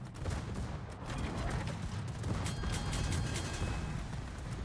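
Naval gunfire in World of Warships, a Roma battleship's main guns and secondaries firing in a dense, rumbling barrage of booms and crackling shell impacts, fairly faint and continuous.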